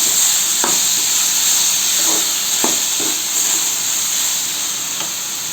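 Tomatoes sauté in a hot pan with a loud, continuous sizzle and hiss, broken by a few soft scrapes of stirring.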